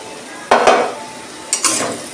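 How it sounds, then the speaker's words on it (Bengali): Long-sliced green chilies dropped into hot oil with turmeric in a pan, two loud bursts of sizzling with stirring scrapes, each fading quickly into a soft background hiss. "সেই লঙ্কাটা দিয়ে দিচ্ছি।"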